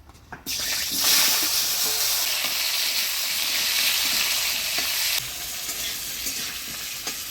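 Potatoes and eggplant hit hot oil with whole cumin and dried chili, bursting into a loud, steady sizzle that carries on as the pieces are stirred, easing slightly toward the end.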